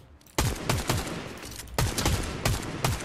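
Loud automatic gunfire in the Fortnite video game, with a burst of close, punchy shots in quick rhythm, a short pause, and then another string of rapid shots.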